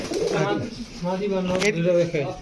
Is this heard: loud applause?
no